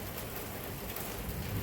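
Heavy rain pouring steadily near a workshop, a dense constant hiss with no voices.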